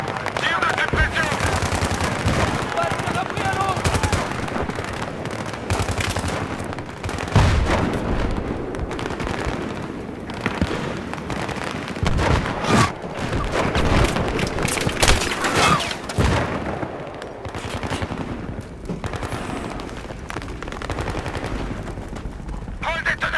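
Rapid machine-gun bursts and single gunshots crackle almost continuously through a Battlefield 3 combat mission, loud and dense, with occasional booms and voices mixed in.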